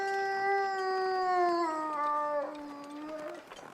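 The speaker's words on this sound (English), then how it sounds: "discovered a very loud wolf" In the survival video game The Long Dark, a single wolf lets out a loud, sustained howl near the listener, its pitch gliding slowly downward before fading out, with no talking.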